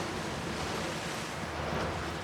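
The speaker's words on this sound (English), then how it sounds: "Waves crashing outside." Waves crash outside in the video game The Last of Us Part II, a steady, broad rushing surf roar, loud and continuous with no talk.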